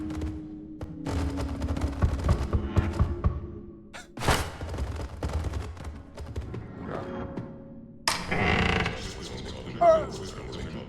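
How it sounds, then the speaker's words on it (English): Gunfire in a horror therapist video game, a few sharp bangs scattered among mechanical clatter, thumps and shifting game sounds over roughly ten seconds, with voices talking at points. "I heard a gunshot."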